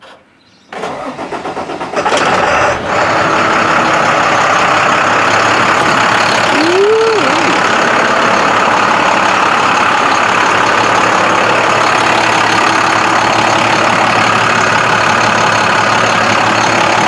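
An International 4300 truck engine with a new exhaust and down pipe cranks and starts, then settles into a steady, fairly loud idle with a low exhaust rumble that continues to the end.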